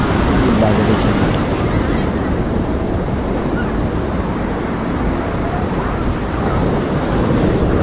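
Surf breaking at Baga beach in Goa, a steady loud wash of waves with wind buffeting the microphone throughout.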